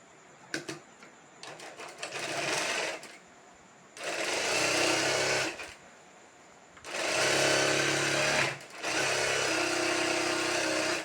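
An electric sewing machine stitching patiala pants chatters in rapid bursts, with several runs of stitching a few seconds long separated by short pauses, close and clear.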